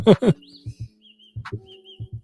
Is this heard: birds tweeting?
yes